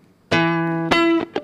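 Clean, unprocessed electric guitar sample: a sustained note ringing for about half a second, then a second struck note, followed by a short final pluck, close and clear with no voices.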